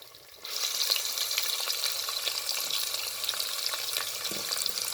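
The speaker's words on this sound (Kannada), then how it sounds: "ಓಕೆ, ಸ್ವಲ್ಪ ಫ್ರೈ ಮಾಡ್ತಾಯಿದ್ದೀವಿ. Onion, chilli 3 ಹಾಕ್ಕೊಂಡಿದ್ದೀವಿ." Sliced onions with three chillies fry for ghee rice, a steady close sizzle that starts abruptly after a brief quiet moment and keeps up with faint crackles throughout.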